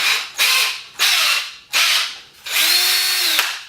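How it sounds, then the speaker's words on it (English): A cordless drill spinning a hook-and-loop fabric shoe polisher spins up in four short bursts, each a whirring rev that winds down, the last held longer at close range. "hook and loop fabric"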